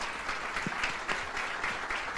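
Congregation applauding during a Baptist church service: a soft, steady wash of clapping from the crowd, fairly distant and even in level, with no clear speech over it.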